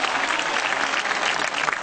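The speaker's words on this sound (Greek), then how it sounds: "Παρατείνουμε το χειροκρότημα." Audience applause at a kindergarten and nursery school performance, steady loud clapping from a crowd filling the whole short moment, close and continuous with no voices over it.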